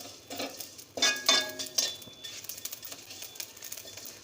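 Dry-roasting cumin and spices for jeera aloo, stirred in a pan: a spoon scrapes and clinks against the metal in quick bursts early on, then softer rustling with faint background hiss and no talking.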